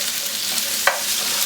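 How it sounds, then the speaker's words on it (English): Sesame seeds sizzle as they cook down in a pan, a steady bright frying hiss with one brief sharp tick partway through, quiet and without voices. "we want to add the rest of our sesame seeds. And then we're just gonna let them cook down"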